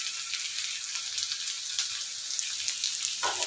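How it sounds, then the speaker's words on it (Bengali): Capsicum and potato frying with spices in a pan, a steady bright hiss of oil sizzling close up throughout, with a brief stir or clink near the end. "ভালো করে মিলিয়ে নিয়ে ভাজতে থাকবো।"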